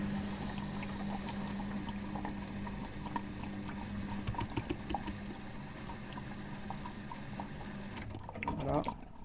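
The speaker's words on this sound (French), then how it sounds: "enfin de rincer la cuve." Water runs and splashes inside the drum of a Miele washing machine during a rinse, a continuous wash of liquid over a steady low hum, with some clattering near the end.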